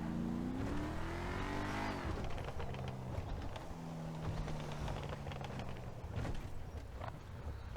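A supercharged car engine in a GTA 5 car mod rumbles and revs, rising in pitch then settling into a deep steady drone with crackling bursts, loud and close with no speech.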